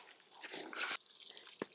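A small amount of water is poured over potting mix while transplanting artichokes in a garden, a quiet, brief splashing trickle followed by a soft drip, with no voices.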